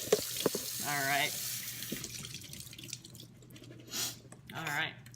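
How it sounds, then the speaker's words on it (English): Tap water runs over strained sweet potatoes in a kitchen sink, splashing and trickling in bursts with short gaps, while a voice speaks briefly nearby. "we're straining. As you can see, rinsing them off."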